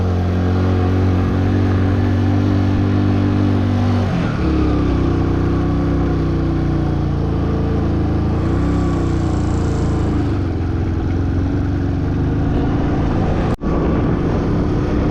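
A car engine hums low and steady while driving a mountain road in Arunachal Pradesh, its drone shifting pitch a few times as the vehicle changes speed, with a brief click near the end.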